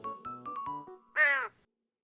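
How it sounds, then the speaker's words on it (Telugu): A crow caws once, loud and close, a single harsh call that follows a few sustained, harmonic tones. "రెండు కొంగలు తీసుకుపోతున్న తాబేలును కాకి చూసి కావుమని అరిచే."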